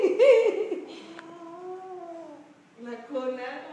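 Cats fighting, one of them a male, with drawn-out caterwauling yowls and meows. The loudest wail comes first, then a long wavering howl and more yowling near the end, close by with people talking alongside.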